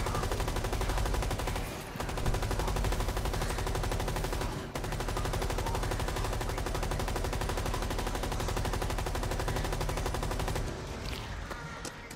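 Sustained rapid automatic gunfire from the green gun in Rainbow Six Extraction, loud and continuous for most of the stretch with two brief breaks, tapering slightly near the end.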